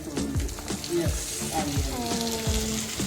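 Pieces of kachil (purple yam) shallow frying in oil in a pan, giving a steady close sizzle and crackle with occasional stirring noises, under faint voices.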